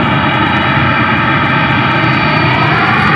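A jet aircraft taxis at Memphis International Airport, its loud, steady engine roar filling the whole moment without a break, close by and drowning out other sounds.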